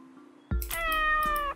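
A cat in the video game A Street Cat's Tale lets out a single drawn-out meow. It starts sharply at the half-second mark and holds loud and close against a quiet backdrop.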